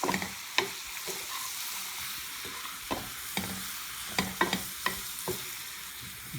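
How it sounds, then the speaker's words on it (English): Mushrooms sprinkled with sugar sizzle in a frying pan while a utensil stirs them, giving repeated scraping strokes over a constant close frying hiss. "So right now I'm just going to sprinkle some sugar over the top like that. And then we just stir them up."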